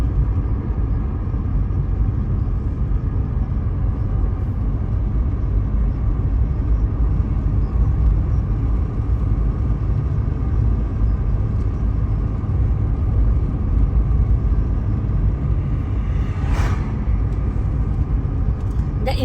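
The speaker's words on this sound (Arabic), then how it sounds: "أنا زوجي سيد يوسف هو الذي يقود السيارة ومنتبه على الطريق" Steady low road rumble fills the cabin of a moving car driven on a highway through northern Morocco, a constant close hum of engine and tyres with a brief faint click near the end and no talk.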